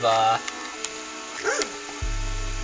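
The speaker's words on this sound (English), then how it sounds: "I've got the dog out there barking." A dog barks a few times in the distance outside a camper, with short yips and some background noise and a low mechanical hum around it.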